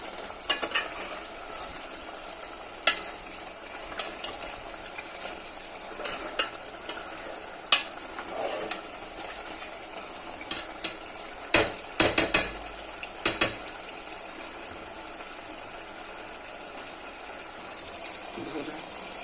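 Chicken frying in hot oil with its water cooking off, a steady sizzle running throughout, marked by occasional sharp clinks of a utensil against the pan.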